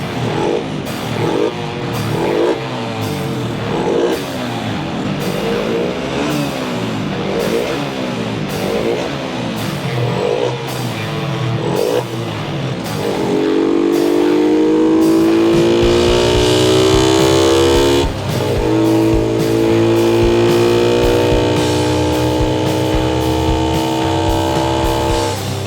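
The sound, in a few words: motorcycle engine revving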